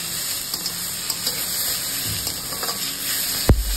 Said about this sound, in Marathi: लालसर कांदो झालो की तेव्हा त्याच्यामध्ये आता मी टोमॅटो घातले।